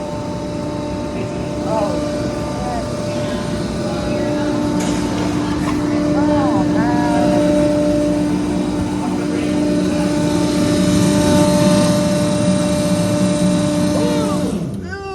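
A vertical baler runs with a loud, steady mechanical drone and humming tones, joined by clanks and squeaks. People talk and call out over the machine.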